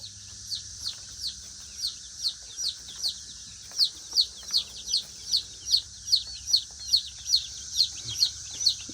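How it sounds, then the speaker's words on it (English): Crowded flock of chickens in a coop making steady, regular chirping peeps about twice a second, fairly close and clear over a low background hum, with no talk. "Got too many chickens in the chicken coop."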